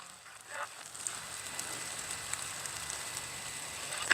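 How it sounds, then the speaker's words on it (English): Heavy rain pours down as a steady, broad hiss that swells after the first half second and holds fairly loud, with scattered crackling drops and no speech. "It's starting to pour."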